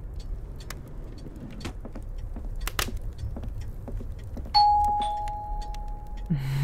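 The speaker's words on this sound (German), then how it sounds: "Zum Beispiel die Türklingel." A doorbell in the video game The Nightfall rings out partway through, a clear two-tone chime that lingers and fades over quiet background ambience and a few soft clicks.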